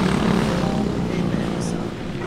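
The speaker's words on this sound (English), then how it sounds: "you can already see some crazy bikes." Motorbike engines drone steadily at a gas station in Thailand, a dense, loud, continuous rumble with no clear breaks.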